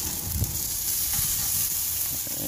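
Ribeye steak sizzling on a grill as it is turned, a steady close crackling hiss with a few soft bumps from handling.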